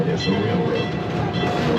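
Calico and Odessa Railroad train rolling along tracks near Calico ghost town, a loud, dense continuous rumble and clatter of the moving railcars, heard close from aboard, with faint voices in the background.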